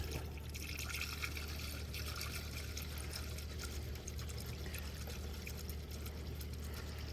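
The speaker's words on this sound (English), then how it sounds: "pour it to it." Coolant being poured through a funnel into the engine of a 2018 Chevrolet Silverado 1500 with the 5.3 V8 during a thermostat replacement, a faint continuous trickle and gurgle over a steady low hum.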